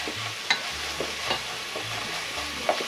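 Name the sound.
ginger and garlic paste being stir-fried for chicken biryani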